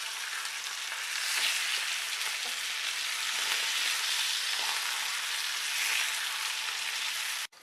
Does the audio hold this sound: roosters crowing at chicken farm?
no